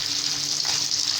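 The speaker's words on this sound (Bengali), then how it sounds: "দিয়ে দিয়েছি মাছ, ভাজি হতে থাকে" Fish fries in hot oil in a pan alongside chopped onion, garlic, chili and potato, giving a close, steady sizzling hiss throughout.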